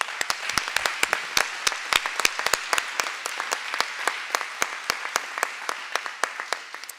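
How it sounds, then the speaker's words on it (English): An audience at a Black voter mobilization event applauds grassroots activists, a scattered, fairly sparse clapping with crisp individual claps standing out over a soft background, gradually tapering. "and they deserve a round of applause."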